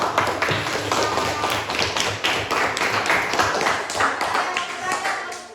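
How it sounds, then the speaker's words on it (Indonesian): Junior high school students clap in a classroom after a group presentation on AI ethics and risks, a loose burst of hand claps with uneven rhythm, fairly close, with some voices mixed in. "tepuk tangan"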